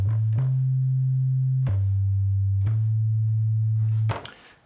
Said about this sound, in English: we're just generating a sine wave from oscillator 1